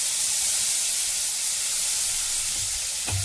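Dried red chillies and curry leaves sizzling in hot ghee in a pan, a steady close hiss and crackle with a small bump of sound near the end.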